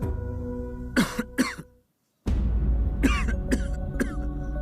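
Two sharp coughs from someone with a cold, a brief silence, then three more harsh coughs, close and loud over a steady background hum.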